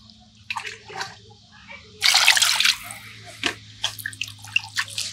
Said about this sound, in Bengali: মাংসগুলো আমি এখন ধুয়ে নেব।